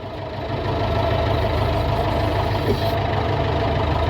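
A David Brown 1490 tractor engine pulls away at a show, running as a steady, loud mid-to-low diesel drone that holds even throughout with a slight lumpy, knocking rhythm.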